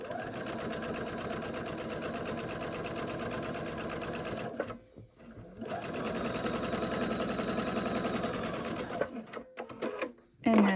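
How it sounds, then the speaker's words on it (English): A sewing machine stitches a seam on a quilt block for a mosaic quilt, running steadily with a brief pause midway, then resuming before stopping near the end. "I'm going to sew along this side."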